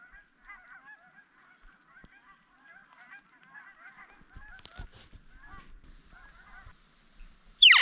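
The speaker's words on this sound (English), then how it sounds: "Some Canada geese starting to head south for winter." Canada geese heading south for winter honk in scattered calls from a distance, a faint overlapping chorus in otherwise quiet open air, ending with a brief louder burst of noise.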